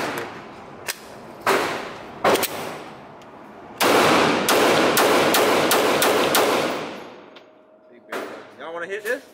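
Suppressed firearm shots, first as scattered single cracks and then as a rapid string of sharp, muffled reports. Voices come in faintly near the end.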